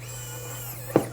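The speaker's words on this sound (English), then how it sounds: "I'll put in the other hinge screws and make sure that they're very tight" A small electric screwdriver whines steadily at close range, driving hinge screws tight into a Dell Inspiron 3505 laptop, and ends in two short knocks as the screw seats.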